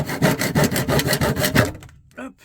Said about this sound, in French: Je vais scier ici les deux petites poignées de la glacière là.